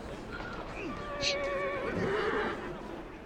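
Horses neigh and whinny repeatedly in Assassin's Creed Syndicate, high shrill calls layered over a steady game background hum, with faint hoof clops.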